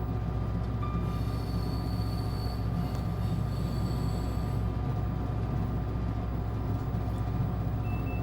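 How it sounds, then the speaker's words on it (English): Locomotives haul heavy trains out from North Junction up a 1 in 264 gradient from Froome North toward Clink Road Junction, giving a steady, continuous low rumble and rolling rail noise, with faint intermittent higher whines above it. "which gives the locomotives quite a bit of work to do, pulling heavy trains out from North Junction"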